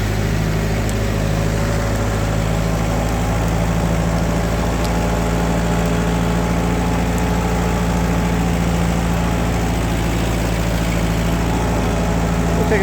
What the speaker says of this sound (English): I like this old tractor.